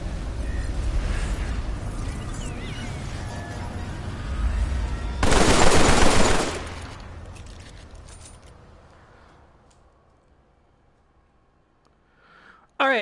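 Continuous gunfire in the VR video game Killing Floor Catacombs, with rapid automatic fire at first and a sharp, loud blast midway, then fading to near silence before a brief closing sound.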